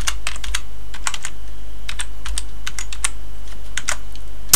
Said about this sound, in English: So here we have to put our password